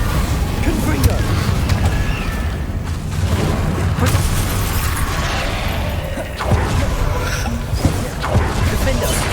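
Confringo blasting spell explosions in the Hogwarts Legacy video game, several sharp bursts and booms scattered among battle noise, with a voice talking throughout.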